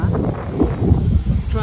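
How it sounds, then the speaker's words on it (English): Gusty wind buffets the microphone in low rumbling bursts, loud and close throughout the short moment. "So it's windy."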